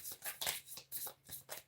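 Tarot cards riffled and shuffled by hand in a quick run of about seven soft, crisp bursts at close range, with no talking.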